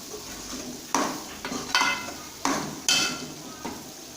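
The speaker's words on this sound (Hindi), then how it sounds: "फिर चम्मच से मिक्स करेंगे और टमाटरों को अच्छी तरीके से गाल लेंगे इसके अंदर" A spoon stirs and mashes tomatoes in a pot for chicken dal gosht, giving about five firm, evenly spaced knocks and scrapes over a low background sizzle, close and clear.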